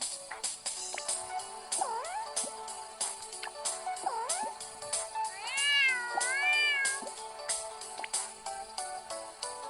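A cat meows several times in short, rising and falling calls, close by and alone, over a faint busy background of clicks and small noises.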